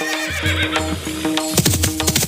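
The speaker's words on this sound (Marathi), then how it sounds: "जिजाऊ मा साहेबांचा घोडा सह्याद्रीच्या तऱ्या खोऱ्याने दौडायला लागला" A horse neighs loudly as a sound effect during a Marathi powada performance, a long whinny followed by clattering hoof-like beats over musical accompaniment.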